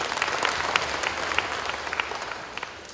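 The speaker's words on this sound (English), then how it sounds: "Can we have a round of applause for all of our speakers?" Audience at a university convocation annual general meeting in Dodoma claps for the presenters, a dense, steady wash of many hands with a few sharper claps standing out, filling the whole stretch.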